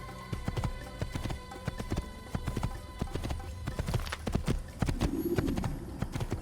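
Horse hooves clip-clop at a steady trot in the video game Assassin's Creed, with a white-robed rider on a black horse. The rhythmic hoofbeats run close and even throughout, with no voices.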